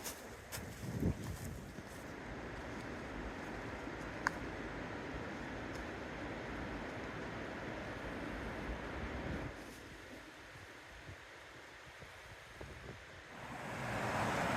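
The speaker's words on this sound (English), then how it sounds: "We have made it down to Shades Creek." Shades Creek at Bear Creek Preserve gives off a soft, steady wash of flowing water, with gusts of wind noise that dip and then rise again near the end.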